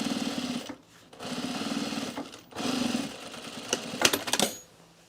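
A sewing machine stitches a seam allowance to a pocket bag on cargo shorts, running in several bursts of rapid mechanical whirring separated by brief pauses, with a few sharp clicks near the end.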